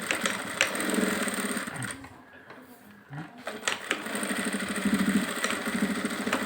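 A sewing machine stitching a blouse runs in fast, rhythmic bursts, pausing briefly midway before resuming its steady mechanical chatter, close and clear.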